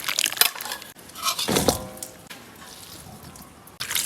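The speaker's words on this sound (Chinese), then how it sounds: "再给它冲洗一下，把它的粉末给它洗干净。" Water runs and splashes as blanched beef chunks are rinsed under a tap, with irregular bursts of spattering and a quieter flow in between.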